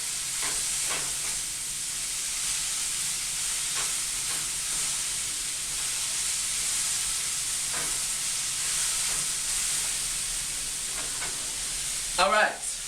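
Vegetables for Korean bibimbap frying in a pan, a steady broadband sizzle running continuously and close, with occasional stirring scrapes and a brief louder clatter near the end.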